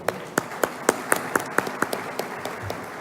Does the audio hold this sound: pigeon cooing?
no